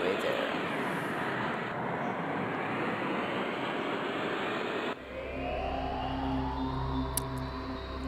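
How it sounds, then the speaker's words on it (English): In the video game Five Nights at Smudger's 4, a train rushes in as a loud, continuous roaring rumble that swells, then gives way to a droning hum with sustained tonal whines. "And that is the train."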